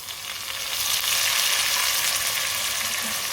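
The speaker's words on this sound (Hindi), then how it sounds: "टमाटर को भी 2 मिनट के लिए पका लेंगे।" Finely chopped tomatoes cook in a pan with a bright, steady sizzle that swells in the first second and then holds loud and close, and no one talks.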